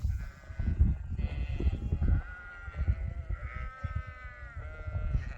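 Ewes bleat on a farm, with several overlapping calls, some wavering and drawn out, fairly close and loud over a low rumbling background.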